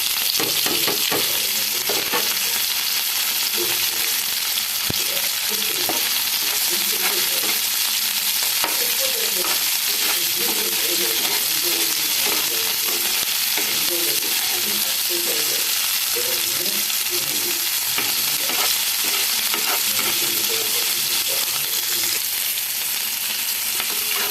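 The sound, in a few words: frying chopped onions and unpeeled potato in a pan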